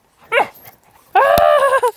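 Dogs bark and yelp in two loud, close bursts, a short one then a longer sustained bark, with a sharp thud in the middle of the second burst.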